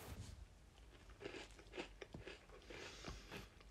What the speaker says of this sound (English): Right, I'm going to crunch into this. Crunch, crunch.